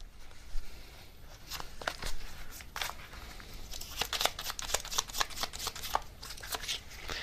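Tarot cards are shuffled and drawn by hand, giving soft papery riffles and flicks that quicken into a dense run of crisp snaps near the end, close and quiet with no voice.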